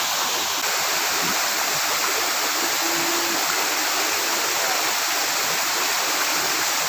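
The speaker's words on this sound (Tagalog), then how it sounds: "So, there's the falls. The Salakot Falls." Salakot Falls pours in a constant, dense roar of falling water, loud and unbroken throughout, with no voices over it.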